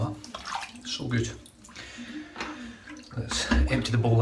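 Water splashes and pours as a shaving bowl is emptied, in bursts of running and sloshing interspersed with talk.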